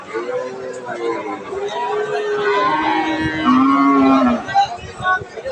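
A Friesian dairy cow moos in long, low calls amid a busy cattle market crowd of people chattering all around.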